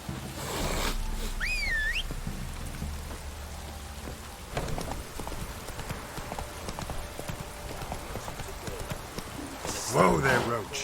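Horse hooves clip-clop at a trot in The Witcher 3 as the horse Roach moves along, a steady rhythmic clatter under rain and distant thunder, with some whistling tones and voices near the end.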